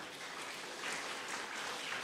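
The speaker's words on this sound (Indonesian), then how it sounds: "Yang setuju, tepuk tangan bagi Tuhan." A church congregation claps at the pastor's invitation during a sermon, a faint, distant and steady patter of many hands.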